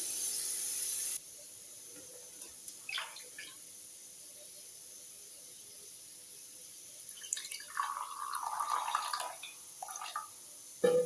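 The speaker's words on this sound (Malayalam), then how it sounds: "ചായയൊക്കെ ഒഴിക്കാനായിട്ട് പോവാണ്." Tea is poured at home in the morning: a quiet room, then a short trickling pour of liquid late on, with a faint clink before it.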